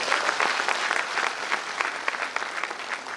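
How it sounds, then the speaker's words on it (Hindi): Audience applause at a motivational speech event, a steady dense patter of many hands clapping throughout, moderately loud with scattered sharper claps. "तो एक बार दिल से सीजन नायर सर के लिए हम लोग एक बार दिल से ताली बजाएंगे।"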